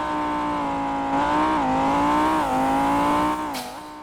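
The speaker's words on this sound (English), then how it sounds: "Oh yeah, that acceleration sound is seriously good" A car engine in the Roblox driving game Driving Empire revs and accelerates, a loud sustained tonal whine rising and falling through gear shifts, with a short tire squeal near the end.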